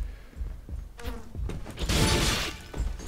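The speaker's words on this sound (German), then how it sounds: "Wenn hier Bienen umherschwirren im Haus" Bees buzzing indoors inside a house in the video game Dust, a dense insect drone that swells loudest mid-clip over a busy, rustling background, with no one talking.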